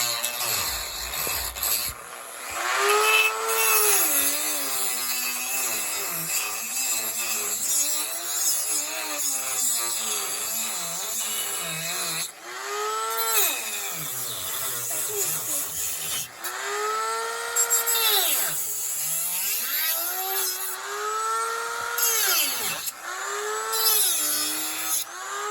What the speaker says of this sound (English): I'll get the front cut off there.